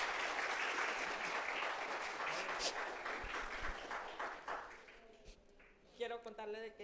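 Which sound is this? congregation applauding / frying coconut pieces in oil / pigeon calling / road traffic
congregation applauding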